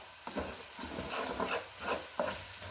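A spatula stirring homemade chili seasoning mix into ground meat browning in a pan, soft repeated scraping strokes over a steady sizzle, close and fairly quiet, with no talking.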